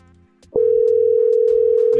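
A telephone line sounds a single steady, loud electronic tone that begins abruptly after a brief quiet moment and holds unbroken to the end as a call is placed.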